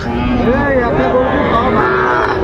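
A bull calf at a cattle market lets out a drawn-out, wavering moo close by, its call rising and falling across the whole stretch.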